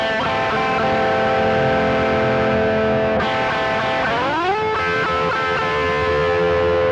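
Loud distorted electric guitar plays sustained two-note double stops, with a sliding bend partway through, heavy with effects and no voices.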